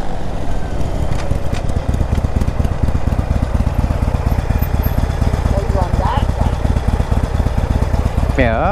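A motorcycle engine idles steadily throughout, a continuous low rumble close by with faint background noise and a brief whine near the end.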